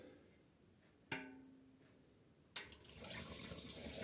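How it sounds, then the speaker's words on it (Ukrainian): Plum must for semi-sweet plum wine gushes and splashes as it is poured into a large glass bottle, starting with a brief splash and then a steady, loud pour. "Оце зараз виливаємо сусло"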